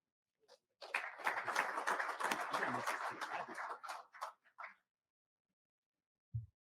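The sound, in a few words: audience applause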